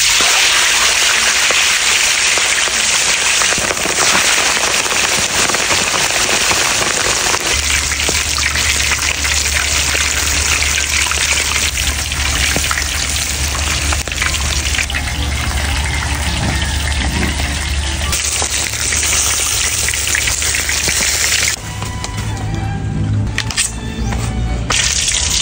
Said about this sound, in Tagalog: nag-init na nga pala kami ng mantika para mag-deep fried na